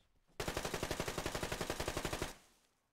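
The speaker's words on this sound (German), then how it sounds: "Die schießen durch Steinwände, die so dick sind." A burst of AK-12 automatic fire in the Survarium shooter, fired through thick stone walls: one loud, close, rapid stream of shots lasting about two seconds, then a short fading tail.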